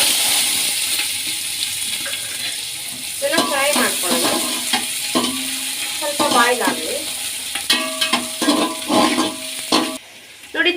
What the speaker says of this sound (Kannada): ಈಗ ಎಣ್ಣೆ ಕಾಯ್ದಿದೆ ಈರುಳ್ಳಿ ಬೆಳ್ಳುಳ್ಳಿ ಹಾಕೋಣ